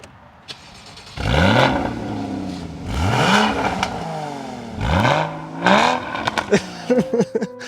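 A high-mileage NC Mazda Miata sports car engine revs hard several times, rising and falling in loud bursts with short gaps between, ending in a few quick blips.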